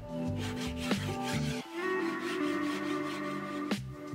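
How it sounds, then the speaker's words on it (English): A file rasps back and forth across epoxy and wood on a boat's anchor locker bulkhead in repeated rough strokes, close and steady, with a few sharper scrapes and no talking. "so we're gonna use the file."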